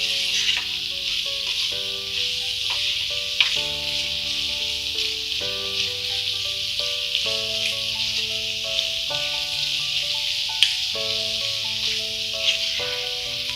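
Chicken fry with garam masala sizzles steadily in a pan as it is stirred, the constant hiss sitting under melodic background music throughout.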